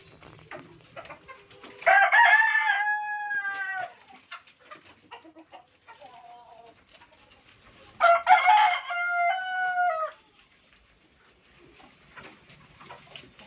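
On a rooftop coop, a rooster crows loudly twice, each call several seconds long and close by. Between the crows, chickens give faint scattered clucks.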